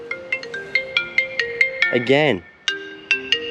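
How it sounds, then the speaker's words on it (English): A mobile phone plays a loud, repeating melodic ringtone of quick bright notes for an incoming call; a person briefly speaks over it partway through, then the ringing resumes. "Someone's ringing me"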